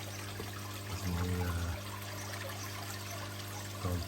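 Water trickles and splashes steadily from a shower feature on a newly built koi pond, a constant close wash of running water that holds through with a few brief lower gurgles.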